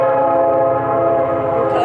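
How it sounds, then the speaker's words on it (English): A train horn blares loud and close, a steady sustained chord that holds throughout with rumbling underneath. "We got another train."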